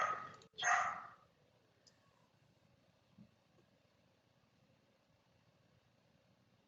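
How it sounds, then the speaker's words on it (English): A dog barks in a short loud burst near the start, then the room goes quiet apart from faint background noise and a few small knocks. "my dog is just going nuts"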